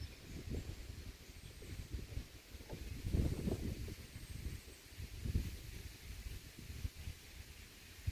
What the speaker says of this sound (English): it's a pretty constant wind right now